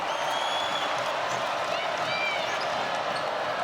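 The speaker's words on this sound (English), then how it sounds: "You can feel this crowd starting to become a factor." Crowd noise rising at a women's college basketball game between Miami and NC State in an ACC arena, a steady dense roar with scattered cheers and squeaks, under faint commentary.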